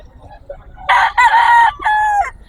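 A rooster crows close by at a chicken market, a single loud, drawn-out cock-a-doodle-doo in two bursts over faint background murmur.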